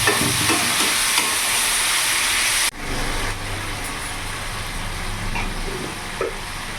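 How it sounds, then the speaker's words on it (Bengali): A spice paste with coriander powder, sugar and a little water sizzles and fries in a pan while being stirred, a loud hissing sizzle that drops abruptly partway through and then settles into a softer steady frying with occasional scrapes. "ভালো করে মশলাটা কষিয়ে নেব যতক্ষণ না মশলা থেকে তেল ছেড়ে দিচ্ছে।"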